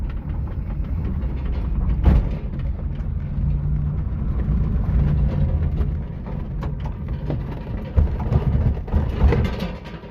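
A Volkswagen rolled in second gear with the ignition on and the brake released, failing to start: a loud, continuous low rumble and clatter of the car moving, with heavier thumps near the start and the end, and no talking.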